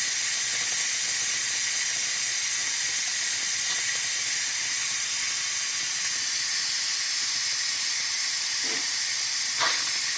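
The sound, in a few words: steam hissing from pressure cooker manual release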